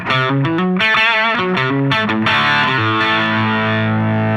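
Heavily distorted electric guitar through a Koch Greg Koch signature amp's lead channel plays a quick lead run, then lets a gritty sustained chord ring out, loud and close.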